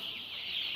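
Broiler chickens at a poultry farm clucking faintly in a single short burst, with no other sounds.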